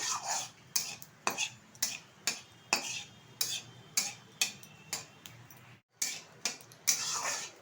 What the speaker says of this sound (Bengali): দিয়ে দিচ্ছি সর্ষের তেল এবার ভালোভাবে তেলে নেড়ে চেড়ে নেব